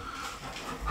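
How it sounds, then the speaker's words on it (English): A dog pants close by in quick, breathy puffs over one brief second. "And I've got dogs interfering."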